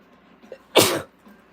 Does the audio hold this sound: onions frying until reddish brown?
no